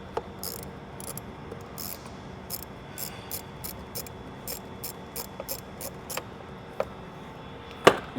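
A 7mm ratchet loosens a hose clamp on the throttle body of a 2022-2026 Cadillac CT5-V Blackwing, giving a steady run of quick, close clicking bursts, with a couple of sharper knocks near the end.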